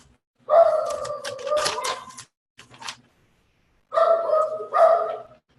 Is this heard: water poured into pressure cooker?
no